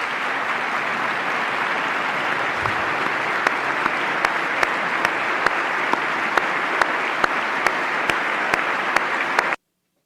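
Sustained audience applause at a Trump speech, a dense steady wash of clapping lasting about nine and a half seconds before stopping abruptly, with no speech over it.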